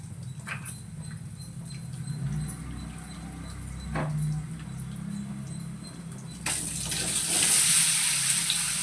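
Garlic and green chillies splutter and crackle in hot oil in a pan at a home festival meal, a busy continuous patter that swells louder and brighter near the end, with no talking.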